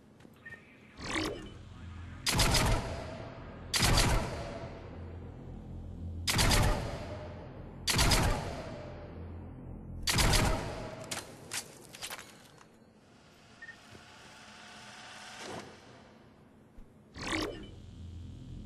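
Incisor rifle shots firing in Mass Effect 3: about ten sharp, loud single cracks in an irregular rhythm, each with a brief decaying tail, and faint quieter stretches between them.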